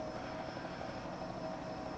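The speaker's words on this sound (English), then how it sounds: "Oh, helicopter cam action." A helicopter flies over a Talladega oval in a racing video game, giving a steady, droning rotor and engine hum, close and even throughout the short stretch, with no talk over it.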